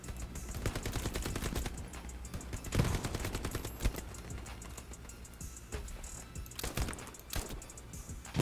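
Rapid bursts of gunfire in the video game Hell Let Loose, sharp repeated shots in quick volleys, loud and close over a constant busy background.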